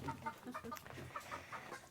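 Several chickens cluck in quick, uneven bursts, soft and somewhat distant.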